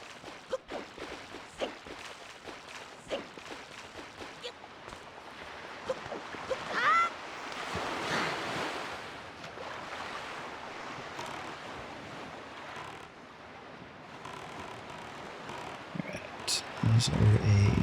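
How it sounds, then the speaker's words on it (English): A small sailboat crosses the open sea in The Legend of Zelda: Wind Waker, with soft washing waves and breezy wind swelling in the middle, under intermittent talking. "Let's take a quick boat ride around."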